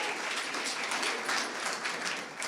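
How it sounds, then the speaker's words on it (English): An audience at an evening sales awards event applauds with a dense, even wash of clapping that holds steady throughout and fades slightly at the end. "Please give him a round of applause."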